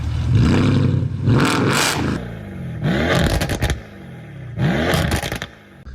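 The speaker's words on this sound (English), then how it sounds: "this M4, it's just that deep 6-cylinder growl and all the sounds that come out of this M Performance exhaust just makes me love it" A BMW M4 six-cylinder engine with an M Performance exhaust revs in three loud, close bursts, each rising sharply and then dropping away, with brief quieter gaps between them.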